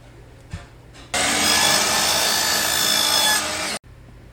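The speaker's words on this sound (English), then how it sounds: "I then bring the piece over to the miter saw and cut off the ends" A miter saw roars through black walnut in one loud, steady cut of a few seconds, then stops abruptly, with quiet shop noise before and after.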